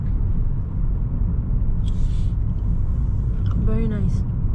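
Steady low rumble of a car engine and road noise heard from inside while driving near a reservoir, with brief voices speaking over it.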